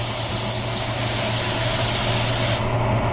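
A spray gun lays a control coat of white pearl paint onto a Maserati, a steady close hiss of atomized spray holding unbroken for about three seconds with a low hum beneath.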